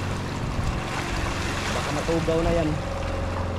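Boat passing at sea, its engine hum blending with wind buffeting the microphone and waves washing nearby, while someone speaks briefly over it.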